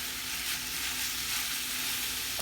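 A pound of ground meat sizzles and fries steadily in a pan with caramelized onions, a constant bright crackling hiss close up, with no talking.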